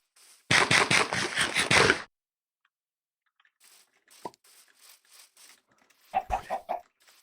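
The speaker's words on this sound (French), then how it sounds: "T'es mon seul ami, petit poulet." Minecraft chicken clucks in a video game: a dense burst of rapid clucking, then scattered soft clucks and pecking taps after a pause, then another short cluster of clucks.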